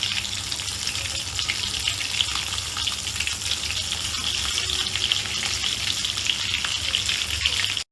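A chicken cutlet deep-frying in hot oil gives off a steady, even hiss and crackle of bubbling fat, sustained without a break at close range.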